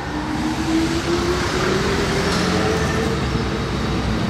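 A supercar engine that sounds like a Lamborghini SVJ drones from far off on a Monaco street, its pitch rising slowly as it revs. It sits steadily beneath constant surrounding traffic noise.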